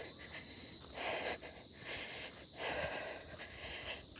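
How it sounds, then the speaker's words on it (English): Cicadas buzz faintly along a nature trail at Fort Clinch, a steady high-pitched drone that continues throughout with gentle rustling underneath. "with the cicadas. I think that's what they're called."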